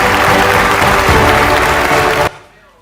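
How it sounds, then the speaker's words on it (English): Loud, sustained applause from an audience at the e4m Prime Time Awards 2025 ceremony as a silver winner is announced, a dense close wash of clapping that cuts off abruptly near the end, leaving only a faint room tail. "a big round of applause for them"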